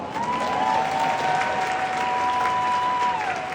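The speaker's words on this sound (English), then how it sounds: "I appreciate a round of applause." Audience applause during a John Cena fan interview, a steady wash of clapping lasting a few seconds with a faint sustained tone running through it.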